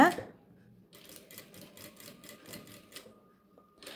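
Sewing machine stitching a back neck collar slowly, a run of evenly spaced mechanical clatters in short bursts after a brief knock, fairly quiet and close.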